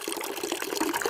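Water gushes strongly from a household tap in a steady, even stream of broadband splashing that fills the whole short stretch without pause.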